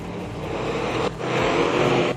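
Race cars roaring in a tight pack at Carina Speedway, a dense loud engine drone with a brief dip before the roar swells again.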